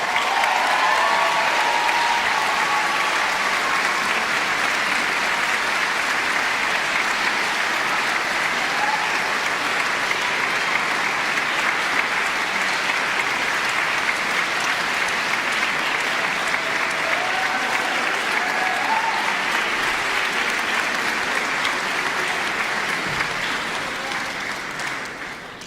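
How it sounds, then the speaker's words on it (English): An audience applauds the six finalists at the NYMC 2025 award announcement with dense, even clapping that carries steadily for about twenty-five seconds before tapering off at the end. "Let's have a huge round of applause for all the 6 finalists."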